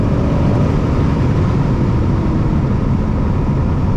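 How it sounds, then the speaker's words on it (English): Heavy wind roars through the open windows of a 2022 BMW M4 Competition at driving speed, a loud, steady low rumble of buffeting air filling the cabin without pause. "All you hear is wind, and there's a lot of it."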